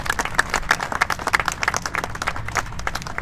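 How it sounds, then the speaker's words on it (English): A crowd at Mona Vale surf club gives a hearty round of applause for the committee members and staff, with close, energetic clapping throughout that has scattered sharp individual claps. "just seriously a big round of applause for all of you"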